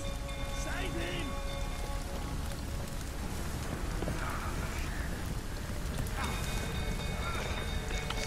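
Heavy rain pours steadily in the video game The Witcher 3, a loud unbroken wash, with muffled voices and scattered tonal game effects faintly beneath it.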